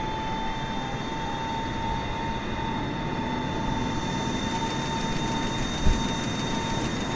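IL-96 airliner engines in a flight simulator game, a steady, loud whining drone with sustained tonal hum and no change in pitch, one brief thump near the end.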